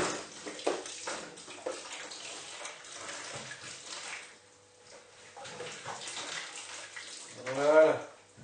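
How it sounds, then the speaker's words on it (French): Water runs steadily from a tap during rinsing of homebrewing equipment in a cellar, a continuous splashing hiss under intermittent talk, ending with a brief gurgling surge. "Je vais fermer le robinet."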